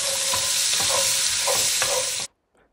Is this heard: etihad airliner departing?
no